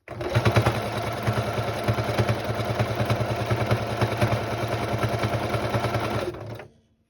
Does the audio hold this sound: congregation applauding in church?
no